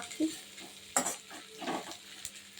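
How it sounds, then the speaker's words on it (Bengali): Onions frying in oil in a pan with stirring, a soft sizzle under scattered scrapes and clinks of a utensil against the pan, quiet and close. "পেঁয়াজগুলো একটু তেলের মধ্যে ভেজে নেবো"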